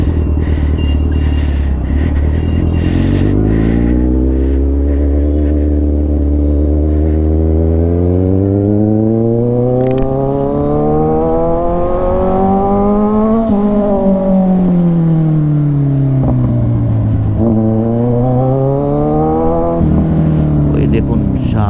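A superbike engine revs loudly and close while riding on a road, its pitch climbing in long sweeps, then dropping and rising again several times across the stretch.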